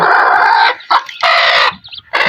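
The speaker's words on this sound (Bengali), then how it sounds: "আমার তিনটা মুরগি হচ্ছে কুচাই বসেছে" Brooding hens cluck and squawk loudly up close in three short bursts separated by brief pauses, with no voices.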